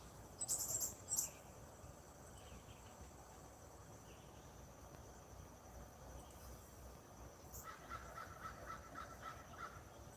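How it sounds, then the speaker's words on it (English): Crows cawing outdoors in a few short, clustered calls near the start and a fainter burst later, over a steady bed of chirping crickets and insects in a quiet morning setting. "We got birds flying by the camera."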